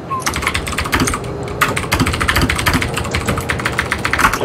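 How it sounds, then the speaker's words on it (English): Loud, rapid typing on a computer keyboard during a developer livestream, with continuous clattering keystrokes close to the mic and dense bursts of clicks throughout, faint speech underneath. "Hey, stream, you want to hear me type?"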